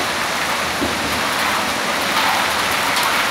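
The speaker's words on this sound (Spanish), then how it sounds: "Está granizando. Es una cortina de agua." Heavy rain mixed with hail during a spring downpour in Santiago, Chile: a dense, steady hiss of water and pellets striking surfaces, loud and continuous, with no voices.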